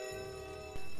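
A train in the Roblox game Jailbreak sounds a steady, tonal horn-like drone that holds evenly, then a rumbling thud near the end.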